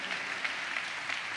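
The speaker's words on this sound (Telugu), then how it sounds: "చప్పట్లు కొడితే యేసయ్యకు స్తోత్రాలు చెప్దాం." Church congregation claps in praise of Jesus during a sermon: a steady, fairly faint patter of many hands, continuous and even, with no voices.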